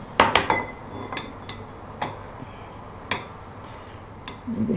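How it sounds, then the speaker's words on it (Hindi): Dishes and pots clink as a too-small mixing bowl is swapped for a larger one while mixing courgette and feta kebab batter; several sharp, close metallic and ceramic knocks come at irregular intervals, then a brief shuffle. "मेरे ख्याल में मैं इसके लिए बर्तन दूसरा ले लेती हूँ, ये छोटा पड़ा है।"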